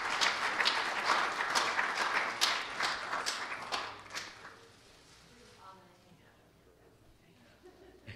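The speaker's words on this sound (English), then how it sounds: "let's give a nice hand clap of appreciation to our brother as he comes" Church congregation clapping for a visiting missionary, a lively burst of many hands that fades out after about four seconds, followed by quieter room sound with faint footsteps and a voice beginning to speak.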